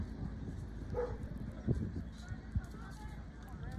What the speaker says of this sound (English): I do like dogs. It's barking at random times,